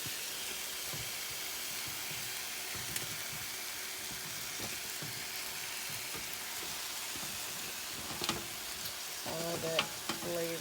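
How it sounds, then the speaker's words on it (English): Oxtails sizzle steadily in a pan with tomato paste as a stew cooks, close frying hiss with clattering stirs and utensil knocks, a brief voice near the end. "now we're going to add our oxtails back to the pan"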